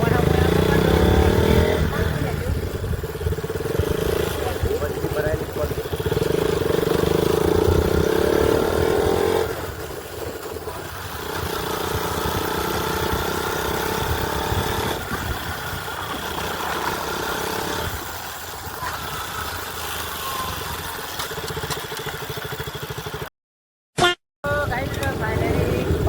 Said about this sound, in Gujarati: તો ફાઇનલી આપણે બાઇક ચલાવી જઈએ.